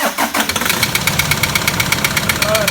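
A car engine cranks and catches, then runs with a fast, steady metallic knocking ticking over the idle; an engine near failure.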